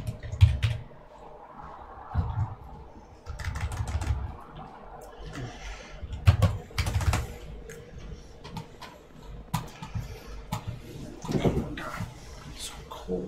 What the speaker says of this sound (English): you're typing that because you're on PC